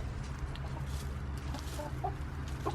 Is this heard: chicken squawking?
yes